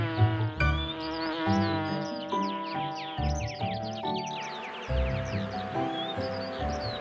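A cartoon-style fly buzzes around a lion's head, a steady whining drone that rises and dips in pitch, loud and close, with swooping tones over it.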